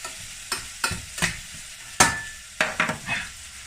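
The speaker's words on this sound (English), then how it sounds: "You smell the garlic, and must admit I love the smell of fried onions." Onions and garlic fry in a pan with a soft, steady sizzle, broken by about seven sharp scrapes and knocks of a spoon stirring the pan. No one talks.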